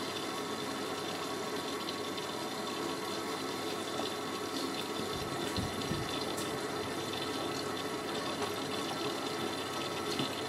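A Miele W562 Prestige Plus washing machine fills with water for a deep rinse, a steady loud rushing inflow that continues unbroken, with a faint low thump midway.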